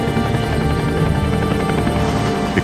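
UH-1 Huey helicopter of the 1st Cavalry in Vietnam, its rotor and turbine making a loud, steady, continuous drone throughout, close by and with no voices.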